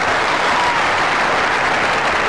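A tennis crowd at the 2012 ATP Aegon Championships grass-court match applauds, with dense, even clapping sustained throughout.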